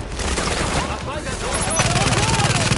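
Gunfire in the video game The Division rattles through in rapid bursts amid game effects, with a voice speaking during the firing.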